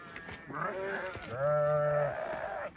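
Sheep on a Turkish farm in spring bleat in long, wavering calls, one after another, close and fairly loud, with little else underneath.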